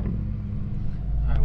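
Porsche GT3 RS and GT2 RS engines rumble low and steady during a drag race, a deep continuous drone that builds slightly toward the end.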